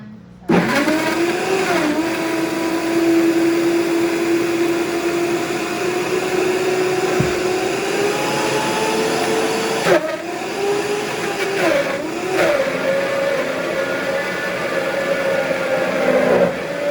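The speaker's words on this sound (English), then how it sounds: "Industrial blender? Yep, the same brand." A blender of the same brand as an industrial model, but not itself industrial, runs continuously and loudly for a long stretch while blending pastele masa. Its motor holds a steady whine with a few brief shifts in pitch and load.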